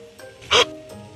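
A single short, sharp capybara bark rises loud and close for a moment in the middle, with quieter faint calls and low rumbling before and after it.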